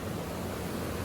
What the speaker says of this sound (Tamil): இங்கே பாருங்கள் எவ்வளோ ஃபோர்ஸாக தண்ணி அடிக்குது